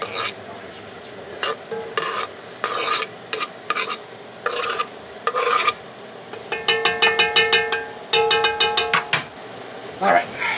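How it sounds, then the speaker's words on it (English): Onions go into a pot to start cooking for chili, giving a run of scraping stirs and rhythmic rasping strokes over a light sizzle. A voice talks intermittently throughout. "get those onions in there to start cooking"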